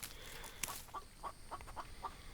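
Chickens cluck in a video game base-building level, a short series of evenly spaced clucks over a steady background hum, with one sharper click early on.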